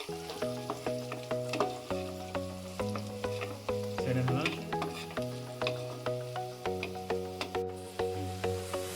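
Masala paste frying and being stirred in a pan, added after onions turned golden, for an Afghani chicken curry: a steady sizzle with rhythmic, regular stirring scrapes all the way through.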